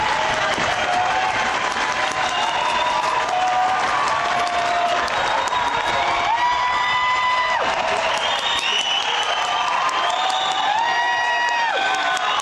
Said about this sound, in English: This is by far the most cheering that we've heard from any of them.